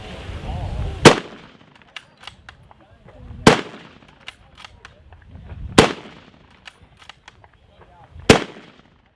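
Four loud, sharp rifle shots from a Mauser firing 8mm rounds at a WWII reenactment ring out alone, evenly spaced about two and a half seconds apart, with a faint background murmur between them.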